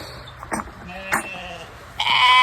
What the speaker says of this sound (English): Look at how fluffy the goats look.